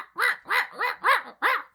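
A human voice mimics a dog's yipping with five quick, evenly spaced high yelps, close and loud, with short gaps between them.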